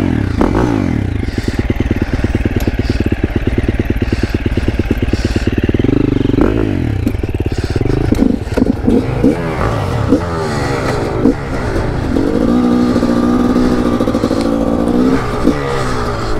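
A GasGas 300 two-stroke dirt bike engine runs close by, idling with a rapid rattling pulse, then revving and clattering through throttle blips before settling back to a steady buzzing idle.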